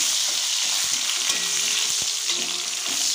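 Raisins and ginger frying in a pan give a steady close sizzle, with a few faint clinks and scrapes from stirring. No one speaks.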